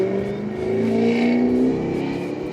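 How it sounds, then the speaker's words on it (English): A Ford Mustang with a loud blown-out exhaust driving by on a residential street, a sustained rough engine drone rising and falling as it passes close by, with no talking. "Keep going down my street with your blown out exhaust."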